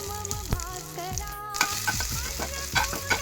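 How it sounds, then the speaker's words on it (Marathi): Cumin seeds and ginger-garlic paste fry in a ladle of hot oil in a kadhai, a steady close sizzle broken by repeated scraping stirs of a spoon against the pan. "कढईमध्ये पुन्हा 1 डवला तेल घातला, त्यात जिरा टाकलं, अद्रक लसणाचा पेस्ट घातला"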